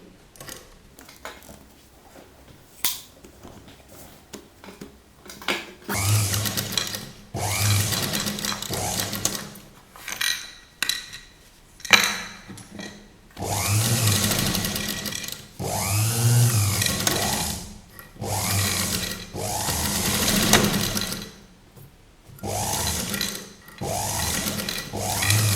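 Sewing machine running slowly with a longer stitch, stitching tassel thread onto a kurta neckline, in repeated bursts of steady whirring separated by short pauses, close and fairly loud.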